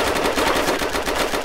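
Rapid automatic gunfire in DayZ, a steady close burst of evenly spaced shots filling the whole moment with no talking.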